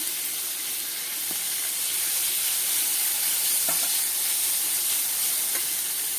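Chopped garlic and vegetables sauté in hot oil in a pan for a vegetable omelette, a loud steady sizzle and hiss with a few faint clicks of stirring, and no talk.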